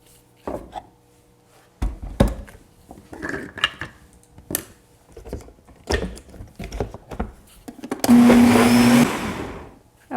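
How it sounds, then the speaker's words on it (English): A kitchen blender whirs loudly for about a second as it blends alfredo sauce with a teaspoon of tapioca starch, preceded by clattering, knocks and handling noises of ingredients and containers. "we're going to blend this up again"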